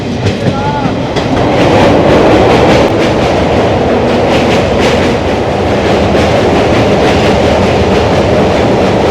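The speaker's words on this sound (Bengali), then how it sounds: "দেখো নৈহাটি জংশন তো ছেড়ে দিল সামনেই আসছে কিন্তু জুবলি ব্রিজ কারণ এটা জঙ্গিপুর এক্সপ্রেস" Jangipur Express rolling along tracks after leaving Naihati Junction, a steady loud rumble of wheels and carriages with rhythmic clatter throughout, heard from on board.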